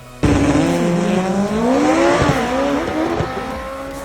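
Turbocharged all-wheel-drive cars, including an all-wheel-drive Honda Civic, launch hard down a drag strip at Maryland International Raceway, a loud sudden engine roar rising through the gears with brief tire squeal, close and sustained.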